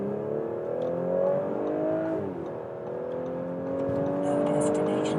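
A car accelerating hard from 40 onto the German autobahn, the engine note climbing steadily, dipping briefly at a gear change, then rising again loud and continuous from inside the cabin.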